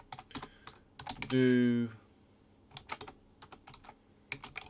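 Code being typed on a computer keyboard, irregular close key clicks in short bursts with a brief voiced sound in the middle.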